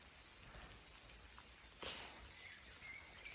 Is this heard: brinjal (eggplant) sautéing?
no